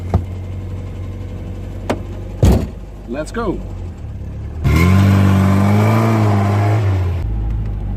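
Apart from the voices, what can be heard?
small sports car engine running and revving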